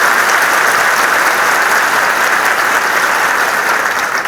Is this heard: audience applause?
yes